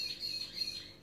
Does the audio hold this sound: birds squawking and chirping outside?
yes